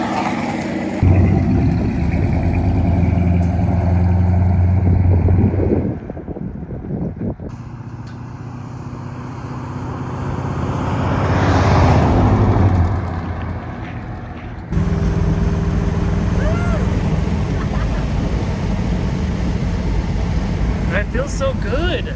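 A 1964 Ford Galaxie with a newly installed 390 engine drives along, its steady low engine drone and road rumble running throughout, swelling briefly mid-way, with people talking over it.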